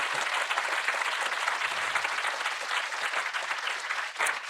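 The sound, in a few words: audience applause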